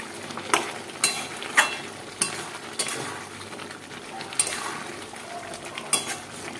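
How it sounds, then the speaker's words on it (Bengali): A spatula scrapes and knocks against a pan as chicken is stirred and fried with spices, the clanks arriving in a steady rhythm of about one per second over a faint sizzle. "চিকেনটা কষিয়ে নিচ্ছি আগে"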